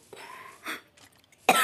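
A person with a fever coughs a few times, short harsh bursts with a louder, sharper cough at the end, close and without talk over them.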